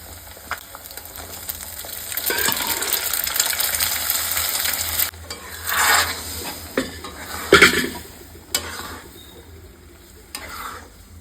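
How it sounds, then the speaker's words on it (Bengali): A hot tadka tempering hits a pot of egg dal, with a stirring scrape and pot clatter building into a few sharp sizzling bursts that fade in the middle and near the end. "এবার ডিমের মধ্যে যাবে আমার তড়কা।"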